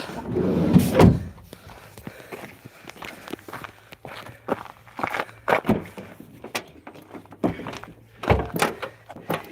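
A door that will not stay open knocks and thunks repeatedly against its frame during dog training, mixed with footsteps and shuffling movement at close range, uneven in rhythm, with no speech.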